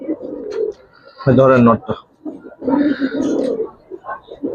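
A male Giribaz pigeon gives loud, throaty coos in bursts close to the microphone, with someone speaking briefly between the calls.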